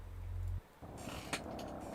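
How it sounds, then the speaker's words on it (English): A dial-up modem sound effect in a music score: a low hum cuts out, and after a short gap a harsh, hissing, warbling screech of tones and noise bursts begins and carries on steadily. "We've got that modem sound."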